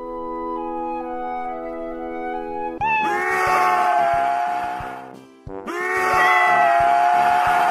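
A cat screams and yowls loudly in two long, drawn-out bursts, the second cutting in after a brief dip, with tonal musical sounds underneath at the start.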